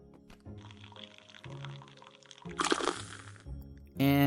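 Water poured in the Innkeeper VR game, several short splashing pours and clinks separated by pauses, close and moderately loud, ending in a brighter rushing burst.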